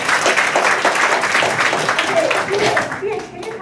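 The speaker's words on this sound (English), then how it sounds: "Okay, give your applause." An audience at an online entrepreneurs' summit panel in Malaysia claps, producing a loud, dense burst of applause that fills several seconds and tapers off near the end, with a few voices mixed in.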